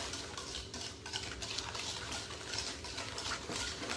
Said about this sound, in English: We're gonna whisk that in good.